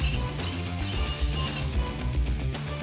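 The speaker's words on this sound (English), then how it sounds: "Press the button on the side to activate the light up eyes" Mechanical clicking from the side button of a Marvel Star-Lord helmet with light-up eyes, heard close and alone over a steady whirring hum whose bright upper hiss cuts off partway through.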